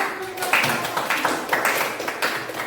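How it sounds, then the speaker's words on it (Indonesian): A classroom group clapping together, a short burst of scattered hand claps at close range that continues for a few seconds. "berikan tepuk tangan dulu"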